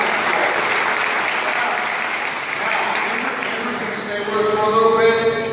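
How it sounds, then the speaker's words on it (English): A crowd at an indoor gathering applauds in a sustained wash of clapping that swells near the end as a voice begins speaking over it. "give him a round of applause."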